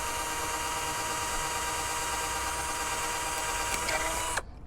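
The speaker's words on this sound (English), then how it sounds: "I'm just drilling holes into these plastic cups" A steady, high-pitched drill whine runs continuously at close range as it bores holes into plastic cups, then cuts off abruptly at the end.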